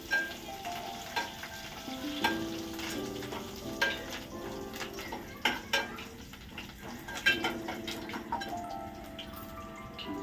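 Chickpeas and gongura tempering fry in a home kitchen pan, a moderate crackling sizzle with intermittent scraping and clinks of a spoon against the pan, heard close without talk.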